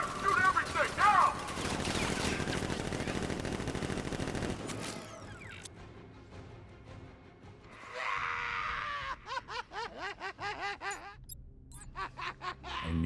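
Guards unleash a loud, sustained barrage of gunfire in Batman: Arkham Knight, with dense rapid shots for about five seconds, then sparser bursts and scattered game effects.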